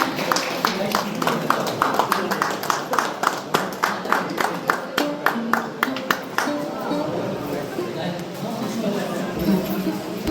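An audience at a school alumni felicitation ceremony claps in a steady, rhythmic unison beat that gradually loosens into scattered applause, with talk and chatter running underneath.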